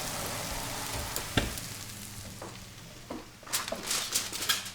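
Thin chicken pieces frying in a pan, a steady close sizzle with scattered pops and crackles, growing busier toward the end, with no voices.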